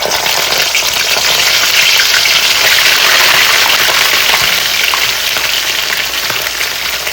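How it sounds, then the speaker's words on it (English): Fish fries in hot oil, a loud, dense, continuous hiss and crackle held close and steady throughout, with no voices. "we're gonna cook this fish, fry this fish for maybe, I'd say 5 to 10 minutes"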